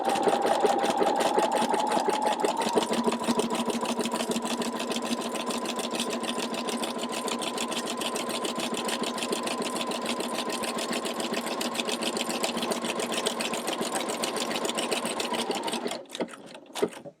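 A sewing machine runs a continuous satin stitch at 2.9 width, a steady, fast mechanical whir with even needle rhythm held for about sixteen seconds before stopping abruptly near the end.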